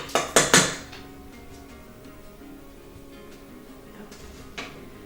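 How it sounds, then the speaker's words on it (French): Rinsed sushi rice goes into a metal saucepan, giving three quick clattering pours and scrapes up close, followed by quiet kitchen handling and a light knock near the end. "vous allez devoir mettre le riz dans la casserole."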